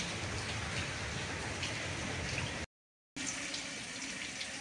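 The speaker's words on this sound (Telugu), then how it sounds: "ఈ వర్షానికి ఎంతమంది ఎదురు చూసామండి బాబు" A steady, even hiss of rain falling, heard alone at low volume, is cut off by a short gap of silence and then resumes.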